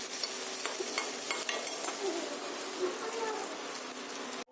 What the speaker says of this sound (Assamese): পেষ্টটো ধুনীয়াকৈ ভজা হৈছে